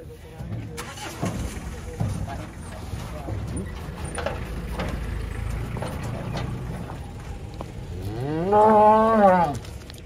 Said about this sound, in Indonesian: ini sapinya bludak ini di pasar Jelok, ramai sekali jumbo-jumbo